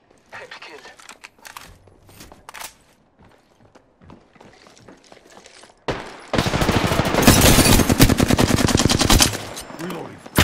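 Gunfire in Apex Legends, scattered shots and mechanical game clatter at first, then a loud sustained machine-gun burst of rapid rhythmic shots for several seconds, with a voice speaking in the game.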